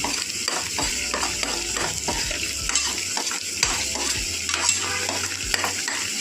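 Paneer masala fries and sizzles in a pan, a steady crackling hiss broken by repeated scraping strokes of a spoon stirring against the metal, close and continuous.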